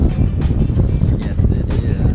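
Wind gusts across an ocean shore at a state park beach after a tropical storm, producing a loud, low rumbling buffet against the microphone with short surging bursts.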